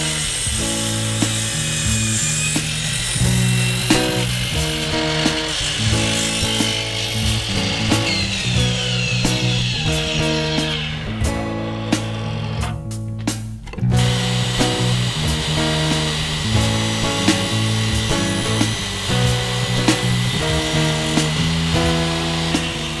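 A power saw makes a 45-degree cut through a wooden plank while a dry toilet is being built, its steady buzzing drone running loud and close for most of the stretch with a brief pause midway.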